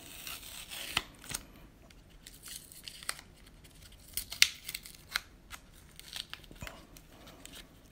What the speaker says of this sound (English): let's get this tape off of here and pull this thing apart